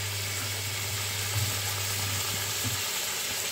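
Chicken pieces fry in hot ghee with a loud, constant crackling sizzle close by, a faint low hum running beneath it.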